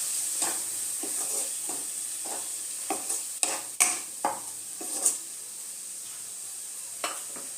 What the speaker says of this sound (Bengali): ভালো মতো মশলাটা আমি কষিয়ে নেব।